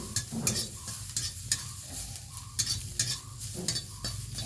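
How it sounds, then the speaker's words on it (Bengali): Mustard greens for a bharta fry in a small amount of oil, with rhythmic scraping stir strokes over a soft, continuous sizzle, close and fairly quiet. "দেখো এই কম তেলেই এটাকে টেলে নেবো আমি।"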